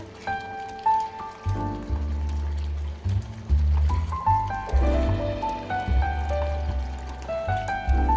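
Masala mushroom gravy sizzles in melting butter in a pan, a steady crackling and spattering like light rain, with louder bursts as it is mixed and faint music underneath.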